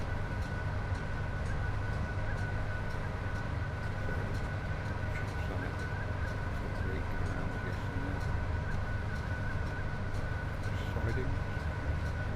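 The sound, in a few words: train climbing a gradient in a train video game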